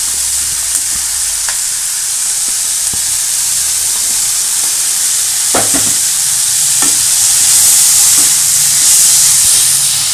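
Chopped tomatoes sautéing in a pan for ridge gourd chutney make a steady, loud sizzle and hiss, broken now and then by sharp clicks and scrapes of a spoon stirring against the pan.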